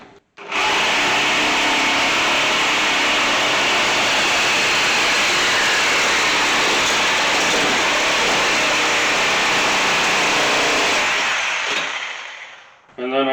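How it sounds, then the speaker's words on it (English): Power cutting tool slicing through a truck frame just behind the muffler, a loud, steady grinding whine running continuously for about twelve seconds before stopping abruptly, close by with no talk over it. "I'm going to cut it again back here behind the muffler"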